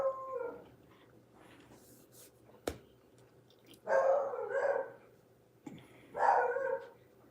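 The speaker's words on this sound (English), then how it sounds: "My beagles, everybody think they got to go bark at them." Beagles barking at neighbours' dogs being walked past, two loud bursts of several yelping barks each, with a sharp knock and quieter whimpering between them.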